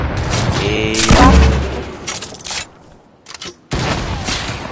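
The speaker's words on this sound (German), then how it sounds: "der ballert die ganze Zeit mit Granatenwerfer" Grenade launcher fire in an online shooter game: a loud sequence of booming shots and blasts, clustered heavily early on, then sparse bursts separated by short silences.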